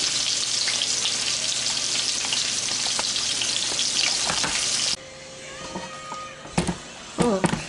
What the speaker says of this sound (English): I'm gonna go ahead and fry up and then come right back.